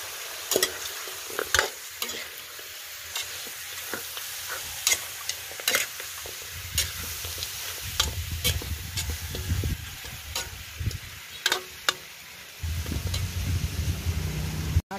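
Goat meat sautéing in a pan for kaldereta, with an ongoing sizzle broken by repeated sharp scraping stirs, loud and close, turning into a stronger, denser frying hiss near the end.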